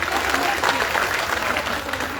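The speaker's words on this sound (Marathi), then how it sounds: "जोरदार टाळ्या एकदा या पत्रकार बांधवांसाठी वाजवा." An audience at a public awareness event in Indapur claps for journalists, dense, steady applause from many hands filling the hall without a break.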